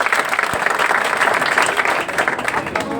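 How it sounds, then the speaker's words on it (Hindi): An audience at a rural village program on literacy and cleanliness breaks into steady, sustained applause, dense clapping filling the room with no voices. "ताली बजा दीजिए।"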